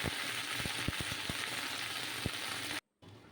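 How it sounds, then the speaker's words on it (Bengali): Okra frying in a pan gives a steady close sizzle sprinkled with sharp crackles and pops, then cuts off abruptly near the end. "এখন এটা ঢেঁড়স ভাজাটাও করে নেব"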